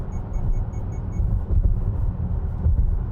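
Steady low road rumble inside a Subaru Solterra Touring electric car cruising along with auto steering engaged, with a short series of faint high chime beeps near the start and no engine note.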